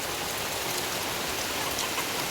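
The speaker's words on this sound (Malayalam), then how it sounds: "അപ്പം മഴ പെയ്തുകൊണ്ട് കേണ്ടതാ, നല്ല മഴ." Heavy rain pours down steadily over fresh concrete work, a dense, even hiss of countless drops filling the whole stretch without a break.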